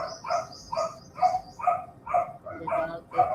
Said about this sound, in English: our dogs hear us talking